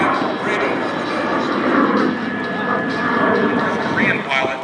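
An F-86 jet fighter makes a very close low-level pass at the Chino airshow, a loud, steady roar of jet engine noise filling the whole clip with a slight swell midway.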